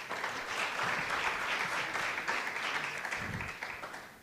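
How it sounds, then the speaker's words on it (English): An audience applauds after a presentation at a session on intimate partner violence, a steady wash of many hands clapping that is heard alone and faintly from a distance, then fades slightly at the end. "I think this is echoed by the claps that she received"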